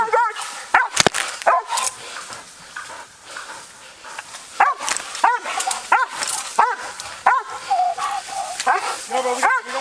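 Police dogs bark and yip repeatedly at close range during a fugitive arrest in the woods, sharp excited barks in uneven bursts, with officers shouting and talking over them.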